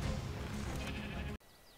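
A sheep in the ARK survival game bleats in one sustained, fairly close call that cuts off abruptly, followed by near silence.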